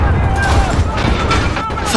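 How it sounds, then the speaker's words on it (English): Loud blast from a breaching charge in Call of Duty Modern Warfare on Xbox One, a dense booming burst that rumbles and crackles through the whole moment, with debris-like noise trailing on. "Fire in the hole."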